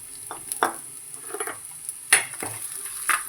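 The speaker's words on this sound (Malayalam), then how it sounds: "ഒന്ന് വഴറ്റി കൊടുക്കാം." Sliced onion with crushed aromatics sautéing in a pan for a coconut-free fish curry with mango: a soft, steady sizzle with scattered scrapes and stirs of a spoon, fairly quiet and close, with no talking.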